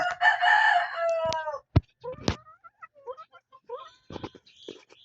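Hens crow once, loud and close, in a drawn-out cock-a-doodle call, followed by scattered short clucks and brief voices.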